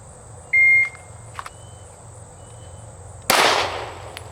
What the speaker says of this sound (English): Just single draws and fire one shot into the IDPA target.